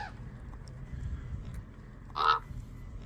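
A crow caws once or twice, moderately loud against a quiet outdoor background, during a hot desert hike through red sandstone country at Devil's Garden in Utah.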